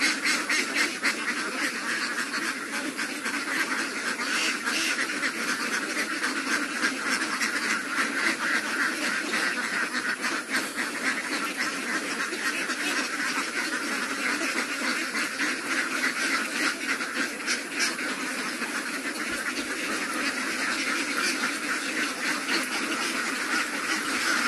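Ducks on a small duck farm quack continuously and densely throughout, a steady, loud flock chorus with no pauses.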